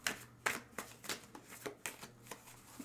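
Osho Zen tarot cards are shuffled by hand in a quiet room, with soft rhythmic riffling and flicking bursts that repeat steadily and close to the listener.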